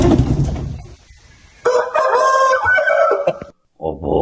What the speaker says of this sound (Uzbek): Qarayinchi, kimniki ekan bu xo'roz?